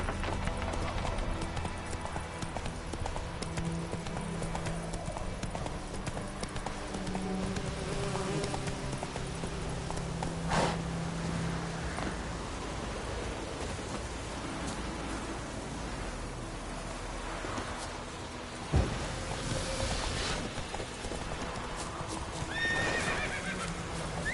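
Roach the horse from The Witcher 3 gallops with a steady, continuous clip-clop of hooves, neighing and whinnying at points, while buzzing insects hum in the background and a voice speaks intermittently over the game sounds.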